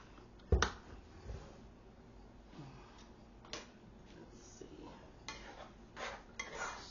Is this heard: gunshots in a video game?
no